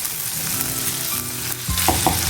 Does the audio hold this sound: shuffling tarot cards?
no